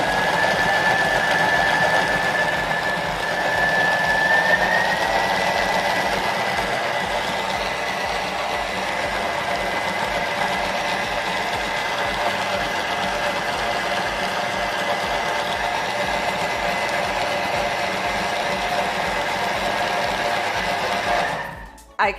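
A Thermomix whirs loudly and steadily while processing vegetable stock paste, a continuous motor drone with a rising whine early on, running for about twenty seconds before stopping abruptly.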